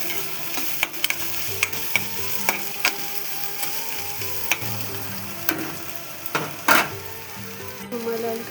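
Spices stirred and frying in a pan for an egg curry, a steady sizzle broken by repeated scraping strokes and light clinks of the spoon against the pan, close and fairly loud with no talking.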